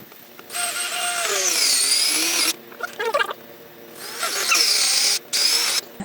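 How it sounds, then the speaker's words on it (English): A power drill drives a very long screw into the wood of a dog house ramp support in several bursts. The motor whines and rises in pitch during each run, with short pauses between them. "take a super long screw and drill it in"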